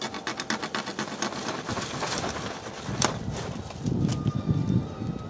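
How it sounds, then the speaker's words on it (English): A serrated survival knife edge saws back and forth through a small twig outdoors, producing a rapid, rhythmic rasping of repeated strokes, close and fairly loud. "we'll just cut a little twig here with the serrated edge"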